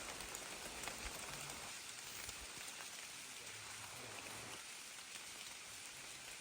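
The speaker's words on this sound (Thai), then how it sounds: "ฝนมาแล้วครับทุกคน ถ้าคืนนี้ตกหนักนี่สนุกเลยนะ" Rain falls at night in a deep forest campsite, a soft, even patter of drops hissing steadily on leaves and surfaces, quiet and continuous with no talk.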